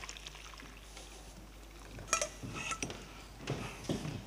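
Vegetables drained through a colander while cooking a mixed fish dish, giving clattering metal and dish knocks with a brief pour of liquid, moderately close, with no talk.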